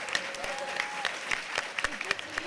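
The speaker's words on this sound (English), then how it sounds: "Can we have one more round of applause?" Audience applause at a San Diego Comic-Con panel: brisk, continuous clapping from a crowd, close and lively, with a faint whoop rising over it.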